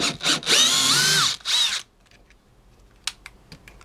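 A cordless drill drives a screw in two loud whirring bursts, the motor pitch sliding as it bites, then cuts off to near silence broken by a few faint clicks and taps.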